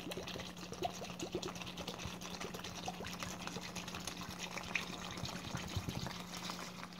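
Vinegar pours into a plastic bag for derusting a Marx 898 toy shell, a faint, quiet gurgling trickle over a low steady hum.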